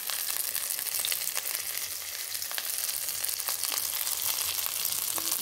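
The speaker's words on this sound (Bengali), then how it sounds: "দ্বিতীয়বার মাছগুলো এরকম ভাজা হচ্ছে।" Fish frying a second time in hot oil in a kadai, giving a steady, dense sizzle with light crackles and pops throughout, close and alone with no talk.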